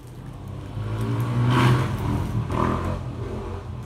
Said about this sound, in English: Is that a flipping motorbike?